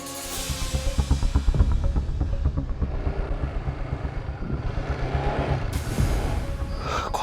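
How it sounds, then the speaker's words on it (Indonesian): A motorcycle engine chugs nearby with a rapid, pulsing putter that swells and fades slightly over several seconds, loud and rough over outdoor wind noise, no talk. "Kok ada suara motor?"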